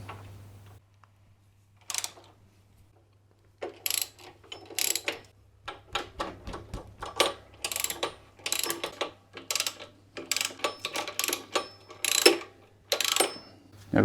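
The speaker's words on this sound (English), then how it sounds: "We have several 12mm bolts here to undo first." Hand ratchet clicking as it undoes 12mm bolts on a Yamaha Tenere 700 motorcycle, bursts of close, crisp rapid clicks separated by short quiet gaps over a low steady hum.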